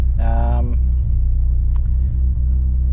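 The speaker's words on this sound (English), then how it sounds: "I've started the car, no airbags went off, no check engine lights" A Mitsubishi Evo X engine runs just after starting, a low steady idle rumble beneath a brief chime and someone talking close by.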